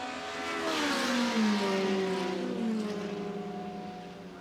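Five race cars run almost nose to tail during the 2015 Glover Trophy race, their engines droning past at a moderate distance as the pitch rises and then fades.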